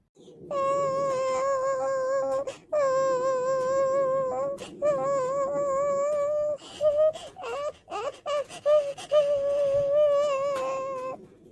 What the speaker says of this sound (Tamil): ஐயோ, அந்த குழந்தை ரொம்ப நேரமாக அழுதுகிட்டே இருக்கே.